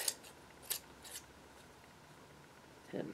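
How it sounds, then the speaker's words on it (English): Scissors snip through material during crafting, a few quick crisp cuts near the start and one or two more around the middle, close and fairly quiet, followed by a soft rustle at the end. "And then this can be trimmed like this."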